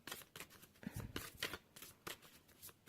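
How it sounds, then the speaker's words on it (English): Oracle cards being shuffled by hand, quick papery riffles and flicks in uneven bursts, close up and fairly quiet. "I'm being told to shuffle a bit more on this."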